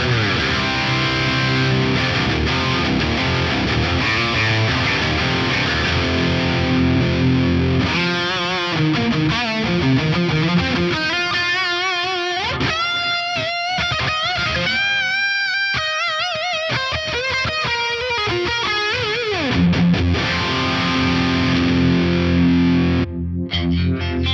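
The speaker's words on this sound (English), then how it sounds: "Scene 2 is going to kick in a multi-tap delay for the lead." Distorted electric guitar through an Axe-Fx III playing a lead with swirling phaser and echoing multi-tap delay effects, continuous and loud, no voices.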